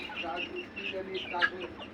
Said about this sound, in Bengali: এই যে বিদেশি এক জোড়া মুরগি আনা হয়েছে আমাদের খামারে